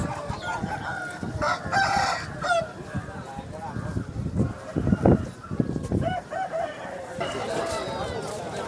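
At the Vijayawada rooster market, roosters crow and hens cluck nearby amid a busy crowd, with a few drawn-out crows rising over murmuring voices and general market bustle.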